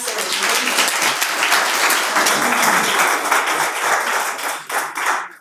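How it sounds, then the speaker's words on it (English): Audience applause for a panel at an affordable housing event, a dense, steady wash of many hands clapping that carries on strongly and tapers off briefly near the end. "Please give our panelists a round of applause."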